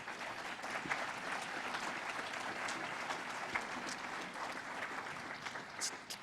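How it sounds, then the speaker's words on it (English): Steady, dense applause from an audience at the Ventura Chamber of Commerce Poinsettia Awards in 2022, a full room clapping continuously at even loudness with a few sharper claps standing out near the end. "Please help me thank them for their commitment with your robust applause"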